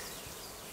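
Honey bees buzz in an open beehive during an inspection, a close, dense, continuous hum for under a second.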